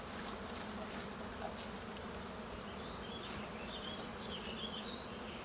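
Honey bees buzzing in a dense, steady drone while being shaken off a frame during a hive merge outdoors, the swarm sound continuous and close throughout with no talk.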